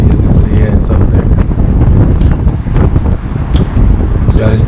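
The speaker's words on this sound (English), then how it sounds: "it's windy" Strong wind buffets the microphone throughout a group road cycling ride, a loud continuous low roar with gusty surges and no clear break.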